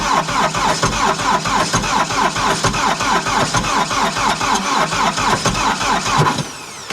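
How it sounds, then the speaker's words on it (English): Diesel 911 engine cranking continuously for about six seconds, the starter churning in a fast, even rhythm, loud and close, without catching before it stops. "we're going to give it a quick crank, see if it works"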